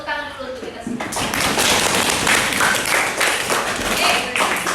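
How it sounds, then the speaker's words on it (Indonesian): Students in a classroom break into a burst of applause after a group presentation, dense rapid clapping that starts abruptly and carries on steadily, fairly loud and close, with a voice heard just before it begins. "Tepuk tangan dulu untuk kita semua."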